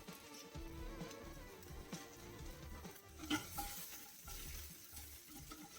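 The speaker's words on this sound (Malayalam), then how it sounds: "ഇഞ്ചിയും വെളുത്തുള്ളിയും ഒന്ന് ജസ്റ്റ് ഒന്ന് വഴറ്റിയെടുക്കാം" Ginger and garlic sautéing with curry leaves in a pan over medium flame, giving a faint steady sizzle with soft stirring scrapes and one brief clink.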